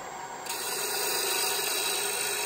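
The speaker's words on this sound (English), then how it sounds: "I'm actually riding a bevel here on the edge of this tip with making this cut." A Hunter woodturning tool rides its bevel while cutting wood on a lathe, giving a steady close rasping hiss that grows slightly louder after a brief start and runs on evenly.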